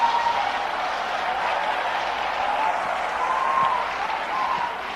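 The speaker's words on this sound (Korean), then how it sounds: "이 박수 치는 애들은 뭐예요 이거?" An audience at a church youth sermon claps in a soft, continuous wash of applause that holds at a fairly even, moderate level throughout.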